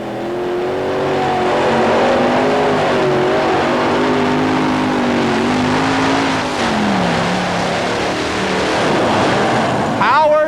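A 7,200-pound modified pulling tractor with five Rodeck engines roars at a 1991 tractor pull, a loud, sustained multi-engine howl that rises and dips in pitch, with an announcer talking over it.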